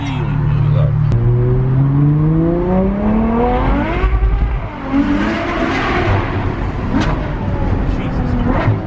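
A Ferrari with a full straight-pipe exhaust revs loudly and close, its pitch climbing in repeated sweeps with raspy crackles, while people talk over it.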